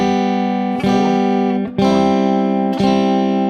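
Chords on a stringed instrument strummed on every beat in a beginner chord exercise, each stroke landing about a second apart with a sharp attack and a full, ringing sustain, close and clear with no voice.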